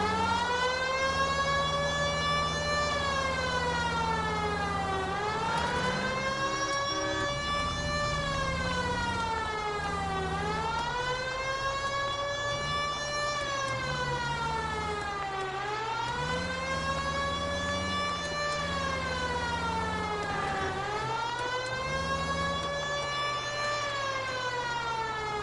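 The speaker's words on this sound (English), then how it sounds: "The siren, Cole, use it" A wailing emergency siren rises and falls in long sweeping cycles, loud and continuous throughout, with a steady low rumble beneath and no talking.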